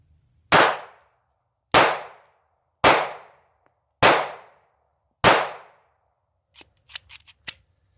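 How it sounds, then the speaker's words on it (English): A Davis P-380 pistol fires five loud, sharp shots at an outdoor range, evenly spaced about a second apart, each ringing briefly before dying away, followed by a few quick metallic clicks and clatters. "Let's try 5 more rounds."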